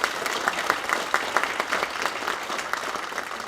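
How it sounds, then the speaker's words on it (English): Audience applause for the band at a USMC birthday celebration, a steady wash of clapping from a large crowd, moderately loud and continuous. "One more great round of applause for the band out there."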